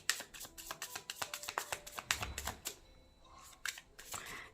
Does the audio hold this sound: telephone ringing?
no